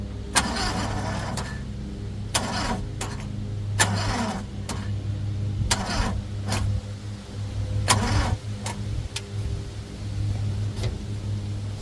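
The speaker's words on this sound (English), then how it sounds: "the starter just doesn't sound like it's doing its thing proper" A car with a suspected failing starter cranks repeatedly, with several short bursts of grinding starter whir separated by pauses over a low steady hum, close and moderately loud, the engine never catching cleanly.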